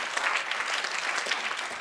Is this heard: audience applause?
yes